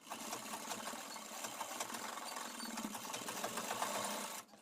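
Sewing machine running steadily while stitching a pair of half pants, a continuous close mechanical whir with fast needle rhythm that cuts off abruptly near the end.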